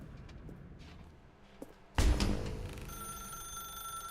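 A telephone bell rings loudly in a video game, bursting in suddenly after a quiet stretch and continuing with a sustained, bright ring.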